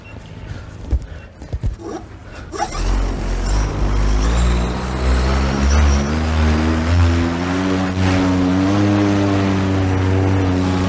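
An electric paramotor's motor spins up at takeoff, rising from a few thumps into a loud, steady, strongly tonal whine that holds for about eight seconds, close to the listener with no talking.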